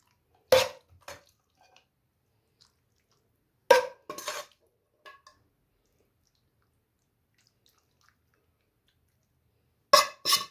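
Gosht saag, a mutton and mustard-greens curry, ladled into a bowl: a few close clinks of a spoon or ladle against the dish in short bursts, separated by long quiet gaps.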